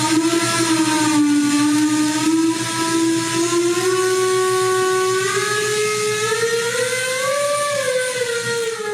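A factory steam whistle in York, Pennsylvania blows loudly and continuously for the whole stretch, one sustained tone that slowly rises and wavers in pitch, with no voices present.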